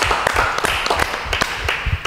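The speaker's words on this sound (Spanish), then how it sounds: "¡Un aplauso para Dos!" Audience applause at a Marbella show for the act Dos, a burst of sharp, irregular hand claps from a small crowd, close and lively.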